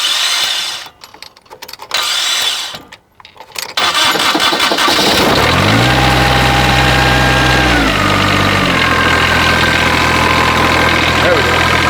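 A Kubota diesel tractor cranks over with a few uneven starter bursts, catches, and settles into a loud, close, steady idle, with someone speaking over it.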